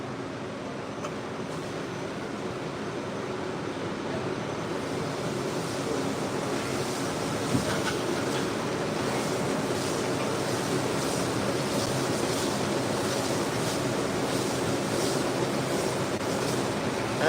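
A rug cleaning machine works over a soaked, soapy bleeding rug during a wash, giving off a steady, loud, broadband whooshing and rumbling wash that continues unbroken with no voices.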